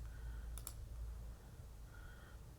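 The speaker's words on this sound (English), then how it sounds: "So I'm going to go around in this circle and click on these." Two quick mouse clicks land close together while working in Cricut Design Space, soft and near over a steady low room hum, with quiet stretches before and after.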